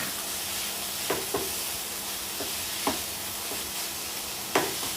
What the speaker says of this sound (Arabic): ونقلب البصل مع الفراخ.